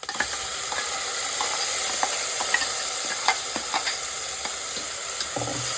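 Ground ginger garlic paste fries in oil in a pan for mutton liver fry, a steady close sizzle running throughout with scattered light clicks and scrapes of a spatula stirring.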